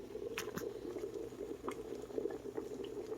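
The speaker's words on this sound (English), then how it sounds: "It's still a full rolling bubble." Dewberry jam at a full rolling boil in a pot, a steady dense bubbling and popping with a few sharper pops, close and continuous throughout, with no voices.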